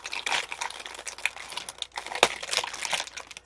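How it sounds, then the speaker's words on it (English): Crunchy plastic mail bags crinkle and rustle close up, a run of irregular crackling handling noises with sharper crunches scattered through, no voices. "I love these crunchy bags"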